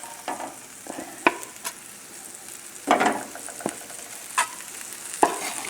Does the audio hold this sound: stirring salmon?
yes